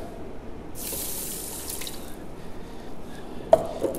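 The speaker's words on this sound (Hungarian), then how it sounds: "Beöntjük a rizsre." Water poured onto 100 g of rice in a Ninja Speedi cooker, a steady close splashing and trickling stream running for several seconds, ending with a small clink.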